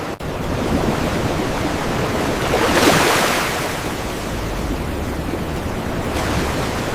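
Ocean waves surging onto a rocky shore, broad continuous roar that swells once to a louder crest midway, with wind-like noise, close and loud.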